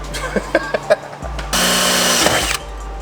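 A Mac Tools hole cutter on a power drill bores a hole into a 2019 Ram 1500, a steady close grinding whir of about a second after a few short clicks and bumps.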